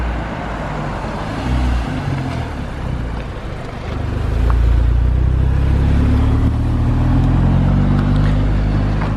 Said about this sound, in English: the sound on the downpipe, of course, is not crazy loud